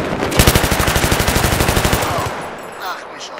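Sustained automatic gunfire in the video game Battlefield 3, a loud, rapid, even burst of shots lasting about two seconds before cutting off into quieter game ambience.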